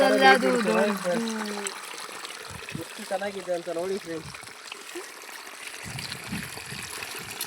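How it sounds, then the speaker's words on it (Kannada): Rainwater pours down a hillside like a small waterfall, a steady splashing rush heard beneath a person talking excitedly nearby. "ಮಳೆ ಬಂದು ಇದು ಜೋಗ ಜಲಪಾತ ಆಗ್ಬಿಟ್ಟಿದೆ ಚಿಕ್ಕದು."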